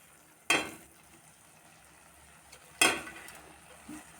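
Coriander leaves for coriander chutney are tipped into a pan and stirred, giving two short, close bursts of rustling sizzle about two seconds apart, with quiet kitchen hum between them.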